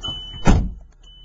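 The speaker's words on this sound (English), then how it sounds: "Close the door." A car door shuts with a single solid thud on a used VW Jetta, close and loud, followed by a faint electronic chime tone running before and after.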